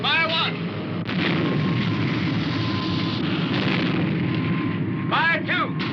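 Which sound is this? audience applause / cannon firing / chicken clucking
cannon firing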